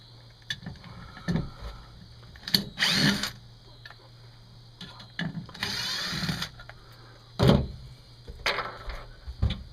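A power drill pre-drilling holes in wood for a truck bed drawer system whirs in several short bursts, spinning up and stopping, with clicks and knocks of handling in between.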